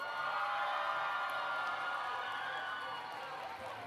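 A crowd at a robotics conference championship in northern Minnesota cheers and roars loudly for the Blue Alliance, a broad sustained wash of voices that fades slightly at the end.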